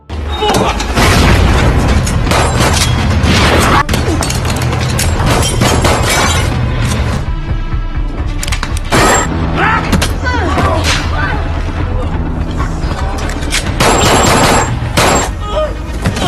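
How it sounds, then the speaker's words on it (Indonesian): A grenade blast in a dramatic film scene sets off loud crashes, booming impacts and shattering debris, with bursts of gunfire and a steady music score running throughout. "Lisa menggunakan sebuah granat untuk menyerang anak buah Piesao"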